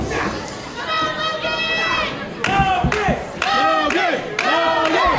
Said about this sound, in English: this crowd is loud and noisy